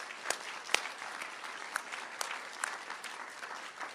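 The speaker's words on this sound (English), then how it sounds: "let's give them all a round of applause." A fairly distant crowd applauds at a town hall meeting on homelessness in California's South Bay. The clapping is soft and even, with a few sharper individual claps standing out.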